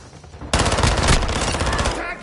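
A burst of gunfire from a sniper rifle in a multiplayer shooter game, arriving as a sudden loud onset and followed by sustained dense rattling shots and game noise for nearly two seconds.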